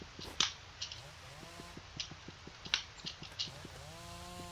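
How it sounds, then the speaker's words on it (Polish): A chainsaw in the Roblox video game buzzes in a rapid, rhythmic series of pulses, rising at the end, with scattered sharp clicks and hits over it at moderate loudness. "on ma piłę motorową"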